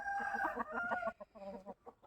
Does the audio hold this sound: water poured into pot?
no